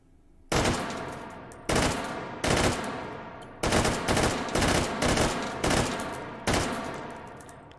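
A QBZ95 rifle fires inside the H3VR virtual reality shooting game: about nine loud, sharp shots at an uneven pace, each with a short ringing tail and brief pauses between, close and without speech.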